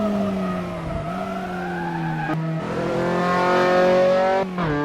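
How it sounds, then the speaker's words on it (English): Race car tires squeal loudly through an oversteer slide into a corner, with the engine droning and shifting pitch beneath the steady, close screech. "A bit of oversteer into Wilson, but Mig reels it in effortlessly."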